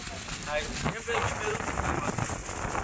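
Rain pours steadily with gusting wind during Cyclone Montha, a dense wash of noise, and a voice speaks briefly underneath.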